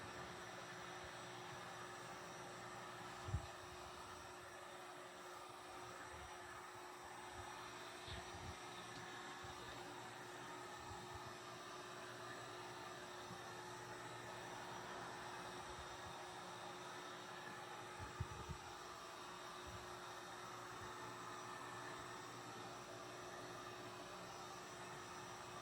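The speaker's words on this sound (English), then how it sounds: "I'm just going over it with a heat gun to try to get it to dry faster" A heat gun blows steadily over wet paint on a prop tombstone, giving a faint, even whooshing hum throughout with a couple of small knocks.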